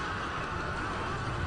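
Horse neighing in the video game Kingdom Under Fire: The Crusaders, a steady whinny that fills the short moment alone, with no talk over it.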